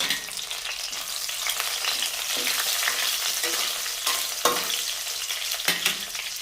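Curry leaves sizzle and crackle in hot oil and ghee while a vegetable pulao tempering is stirred, a steady close frying hiss broken by sharp spatter pops and scraping.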